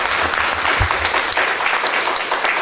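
An audience applauds at the close of a lecture session, a dense, steady wash of clapping that fills the whole stretch at an even, fairly loud level.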